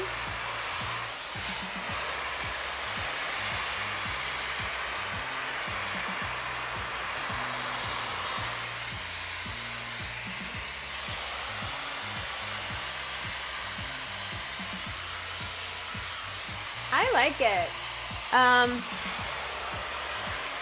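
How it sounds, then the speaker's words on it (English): A T3 Aire 360 hair dryer blows steadily and loudly the whole time, a constant whooshing drone, with a brief spoken remark near the end. "blow out my hair with a brush and a blow dryer"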